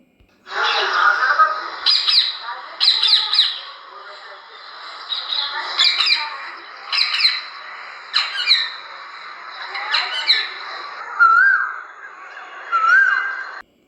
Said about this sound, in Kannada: ಇಲ್ಲಿ ಕೇಳಿ ಹೇಗೆ ಕೂಗುತ್ತೆ ಗಿಳಿ ಹಾಗೂ ಕುಹು ಕುಹು ಕೋಗಿಲೆ.